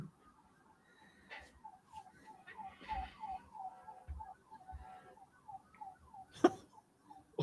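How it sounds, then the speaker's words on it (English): A faint alarm outside a window repeats a steady pulsing, chirping tone far in the background, with a louder burst near the end. "What's with the alarm?"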